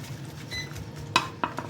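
Metal clinks from ladling cooked stuffed cabbage mahshi out of a pot: a few sharp, close knocks of spoon against pot, spaced apart over a soft kitchen background.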